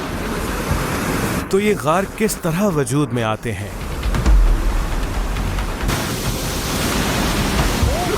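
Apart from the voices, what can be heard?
sea waves and water in Rosh HaNikra caves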